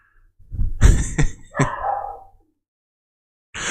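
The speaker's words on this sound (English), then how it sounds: "For every bark that they bark, it's an agreement bark." Pet dogs bark in a quick close cluster of loud barks lasting about two seconds, followed by silence and then a fresh burst of sound at the very end.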